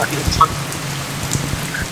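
Steady rain hisses down on Ikeshima, an abandoned Japanese island, with scattered drops pattering nearby, a continuous wet wash of sound.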